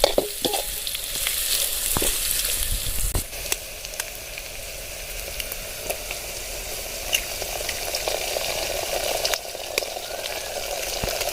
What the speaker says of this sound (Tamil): இப்போ நம்ம வந்து முட்டையை உடச்சி ஊற்றிக்கலாம்